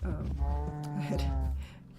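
Cows moo in the Minecraft Agrarian Skies modpack, two drawn-out, fairly close lowing calls in quick succession, clear and alone.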